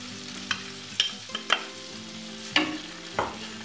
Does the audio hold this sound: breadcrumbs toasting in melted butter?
yes